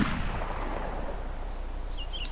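A gunshot in the video game DayZ Mod lands as one muffled, distant boom at the start, then fades into a low, steady background rumble.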